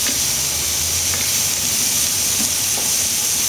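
Hawaiian style short ribs sear on a grill with a loud, continuous sizzle and crackle, a dense steady hiss running the whole time with no voices.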